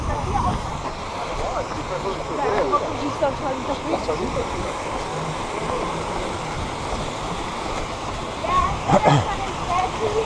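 Water splashes and rushes steadily from the Gefion Fountain in Copenhagen, with faint voices underneath.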